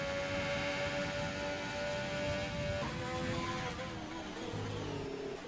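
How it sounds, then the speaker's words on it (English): Race car engine in a sim racing game at the Singapore circuit, a steady sustained drone with tonal whine shifting pitch as it changes gear near the end, continuous and close with no talk. "Listen to the car."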